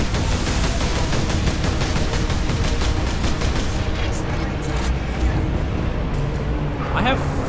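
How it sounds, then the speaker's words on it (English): Heavy, continuous weapon fire and booming blasts in Warhammer 40,000 Space Marine, thick and loud throughout, with a voice talking over the battle noise. "I guess I'm supposed to be shooting these guys"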